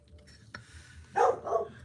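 A pet dog barks indoors, two short loud yaps close to the microphone after a quiet stretch with faint background noise.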